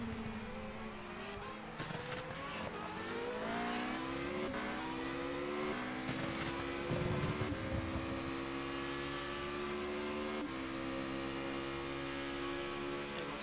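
Formula Renault 3.5 race car in a video game at Abu Dhabi, its engine screaming near the limiter through repeated upshifts, each gear climbing in pitch before dropping back, loud and close, with brief hints of tire squeal.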